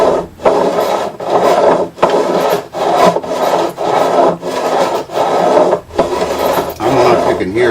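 A fret beveling file is worked against guitar fret ends on a wooden block, giving about ten rhythmic rasping strokes, each a rough scraping burst with short pauses between, close and loud.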